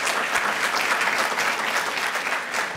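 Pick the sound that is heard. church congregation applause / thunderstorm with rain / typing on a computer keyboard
church congregation applause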